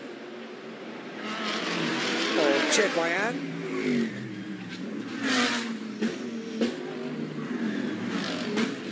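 A Mercedes GT race car at the Macau GT Cup street circuit roars past with rising and falling engine revs, close and loud, while a commentator talks over it throughout.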